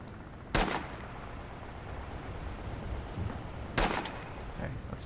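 Two sharp M1 Garand rifle shots, a few seconds apart and fairly close, ring out over a constant low background rumble in the World War II shooter Red Orchestra 2, set at the Battle of the Bulge.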